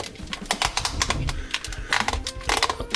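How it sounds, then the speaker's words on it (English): Plastic ratchet joints on the leg of a McFarlane DC Multiverse Jonah Hex collector's action figure click in quick irregular bursts as the leg is posed, close up and crisp. "Same on the other leg, clicky."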